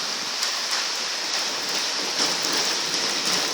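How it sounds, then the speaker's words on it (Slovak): Heavy rain from a big storm pours down steadily, a dense hiss of drops hitting surfaces with no voices. "dážď je obrovský"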